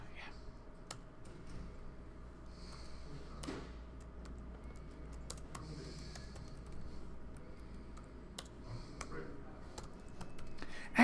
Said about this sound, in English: My fingers are typing the wrong stuff.